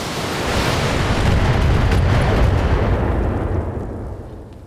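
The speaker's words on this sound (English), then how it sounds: "Missiles away!" Salvo of missiles launched by mechs in the BattleTech video game, a loud sustained rumbling roar of overlapping blasts that swells and then fades away.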